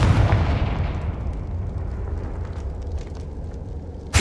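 A Confringo fire spell blast in Hogwarts Legacy roars as a loud, sustained rumbling burst, low and dense with a hissing fiery wash, fading slightly before a sharp new impact at the very end.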